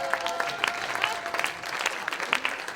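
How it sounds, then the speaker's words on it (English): A theater crowd at a talent show gives brief, lively applause, with distinct individual claps popping out of a moderate wash of clapping over a few seconds. "Give him a great round of applause."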